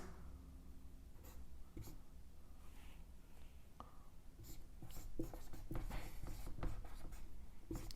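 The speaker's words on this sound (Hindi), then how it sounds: "इस प्रोडक्ट को मैं बिल्कुल एंड में लिखता हूं" Chalk or marker taps and scratches across a board as a chemistry reaction product is written out, a series of short sharp strokes, quiet and close, growing busier in the second half.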